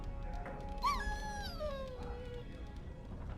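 A dog whimpers in Dragon Age: Origins, a high, wavering whine that slides downward over about a second and a half, heard clearly and alone over a low steady game ambience.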